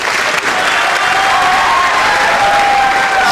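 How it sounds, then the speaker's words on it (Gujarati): Loud, sustained audience applause fills a motivational seminar hall in Surat, a dense wash of clapping with a faint tonal whine running through it. "આ છોકરા મને જોરદાર તાળી પાડો"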